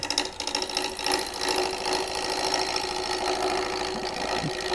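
A steady whirring wood lathe drone with a fast rhythmic chatter as the tool takes a continuous peeling cut, shaving wood, loud and close with no talking.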